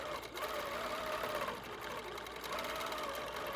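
An HQ Pro-Stitcher quilting machine stitching, a fast steady mechanical whirring and chattering hum with no pauses, fairly faint and unaccompanied.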